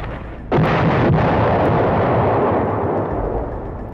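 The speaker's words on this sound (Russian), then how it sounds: "Мы заряжаем капсюль, он стреляет, и снаряд отправляется туда" An artillery gun fires a shell with one sudden loud blast and a long rumbling roll that slowly fades, with no other sound.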